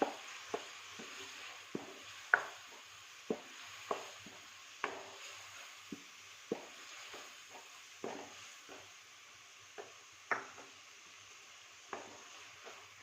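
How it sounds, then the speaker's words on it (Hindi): Tomatoes fry in a pan for a cauliflower and peas curry, a soft steady sizzle broken by repeated sharp scraping knocks of a spatula, roughly every second. "अब हम इसमें टमाटर ऐड करेंगे और यहाँ पर अच्छे से टमाटरों को तब तक इसमें फ्राई करेंगे"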